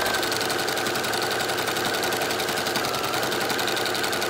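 A sewing machine stitches steadily along a fabric edge, giving a fast even whirring hum throughout the short stretch, close and alone.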